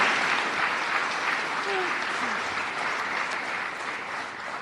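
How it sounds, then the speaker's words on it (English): A crowd at the Oakland mayor's State of the City address claps steadily, dense applause holding at an even level throughout with a faint voice underneath. "Give her another round of applause and a lot of love"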